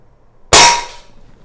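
A single lever-action rifle shot fired at a target: one loud, sharp crack up close that decays quickly into a short ringing tail, with silence before and after.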